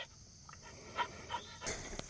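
A happy dog pants outdoors at a timber frame sugar shack, quick soft breaths coming in short rhythmic bursts, close but faint, over a light background hiss.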